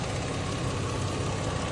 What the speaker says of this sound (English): Got my car sounding funny as hell.